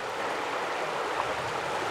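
A salmon-spawning river flows with a steady, broadband rush of water, continuous and fairly close with no talk over it.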